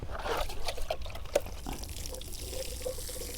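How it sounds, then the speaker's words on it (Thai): Water is poured around a newly planted jackfruit tree outdoors, a soft continuous splashing and trickling with a few faint drips, no voices. "เสร็จก็รดน้ำครับ"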